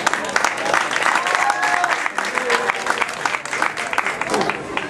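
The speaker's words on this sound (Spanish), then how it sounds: "Le damos un fuerte aplauso." A crowd at a prize-giving ceremony applauds the winners with dense, sustained clapping that fills the moment, while a voice speaks over it.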